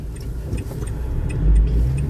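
A car passes on a road, its steady mid-pitched engine rumble rising and swelling a little toward the middle before holding, heard fairly close with no talk over it.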